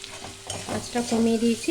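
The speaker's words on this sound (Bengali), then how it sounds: "আস্তে আস্তে করে ভাজছি, যাতে এই তেলের মধ্যে আলুটা সেদ্ধ সেদ্ধ হয়ে যায়।" Potatoes frying slowly in oil in a pan on low heat, a gentle continuous sizzle with stirring noises and a faint tonal hum building toward the end, with no voices.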